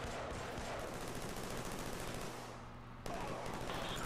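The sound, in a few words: machine pistol gunfire in the video game Killzone 3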